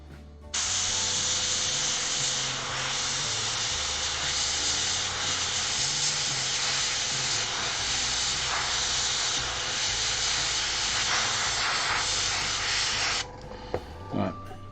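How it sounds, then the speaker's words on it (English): Airbrush spraying paint onto a Warhammer 40k Word Bearers Forgefiend miniature, a loud continuous hiss held steadily for about twelve seconds before cutting off, followed by a few small clicks. "This is where my slapdash airbrushing is not quite doing what I wanted to do."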